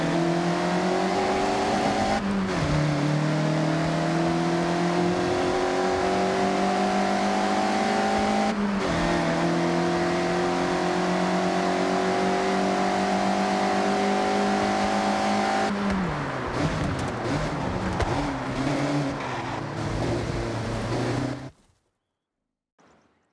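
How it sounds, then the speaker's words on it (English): Mazda MX-5 drifting in Forza Horizon 6, a steady loud engine drone with rising revs and shifts, held sideways through corners, then cutting off abruptly near the end. "The MX-5 likes to be sideways"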